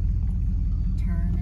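A 1983 Chevrolet C20 pickup truck engine revs in a farm field, a steady low rumble that swells slightly as it is given gas, close and continuous throughout.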